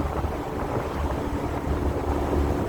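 Heavy wind buffeting and low road rumble inside a moving 2020 Ford Mustang EcoBoost convertible, a constant dense roar with no speech.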